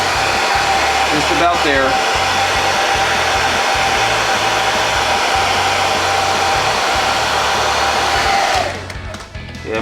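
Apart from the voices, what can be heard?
hair dryer blowing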